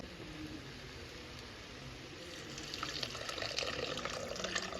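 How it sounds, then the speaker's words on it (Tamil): Water poured into a cooking pot of potatoes in a home kitchen, a steady splashing pour that grows louder and fuller partway through, heard alone. "தண்ணி கொஞ்சம் ஊற்றிடலாம்."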